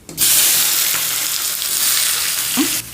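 Two large onions sautéing in about two spoons of oil with a few cinnamon sticks, giving a loud, steady close sizzle throughout with a brief stirring clatter near the end.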